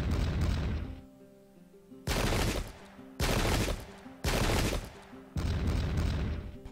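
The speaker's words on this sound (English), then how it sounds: "residual shooting." Gunfire volleys rattle in a Pike and Shot battle set in the English Civil War, as four loud, dense bursts of crackling musketry are separated by short quieter gaps with a low background hum.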